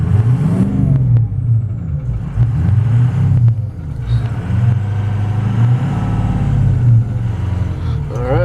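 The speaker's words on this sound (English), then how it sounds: "Just listen to that engine." A 2004 Ford F350 Harley Davidson Edition pickup truck engine runs close by with a deep, steady rumble and a few swells in revs.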